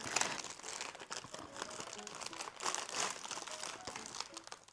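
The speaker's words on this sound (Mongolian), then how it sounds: "Дараачийн миний задлах зүйл бол Tim Tam." Tim Tam chocolate biscuit package being unwrapped, close crinkling and rustling of the plastic wrapper in irregular bursts, fairly quiet, with no talking.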